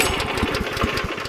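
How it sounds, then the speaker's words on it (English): The small engine on a Bushranger 30 ton log splitter runs loud and close right after a cord pull, with a fast, uneven chugging pulse throughout. "pull the cord until it fires"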